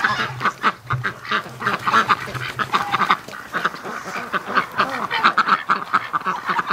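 Muscovy ducks on a farm give repeated rapid quacks and calls, a dense busy chorus of several birds nearby, steady throughout with no talking.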